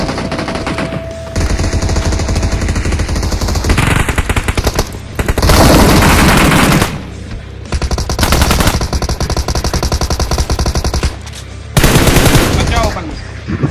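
Automatic gunfire in the battle-royale video game PUBG: loud, rapid bursts of shots in several sustained volleys separated by short pauses, close and dominant throughout.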